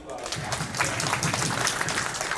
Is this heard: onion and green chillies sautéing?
no